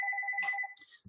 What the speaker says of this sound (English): Sorry about my office phone ringing.